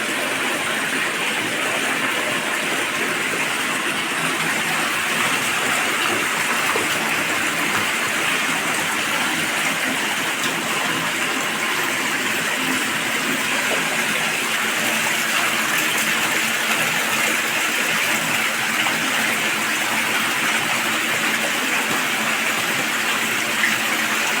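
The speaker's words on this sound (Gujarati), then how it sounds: "મિત્રો ફૂલ પાણી આવી ગયું જો ભાઈ જોઈ" Water gushing at full flow from a side borewell on a farm, a steady, dense, loud rushing roar held without pause throughout, close by and with no talking.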